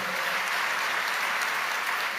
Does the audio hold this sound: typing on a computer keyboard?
no